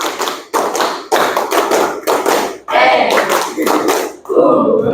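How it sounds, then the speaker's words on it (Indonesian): A group claps hands in rhythmic patterns during an academic coaching session, loud dense bursts separated by short pauses, ending in a brief different noise. "Ya, tepuk tangan."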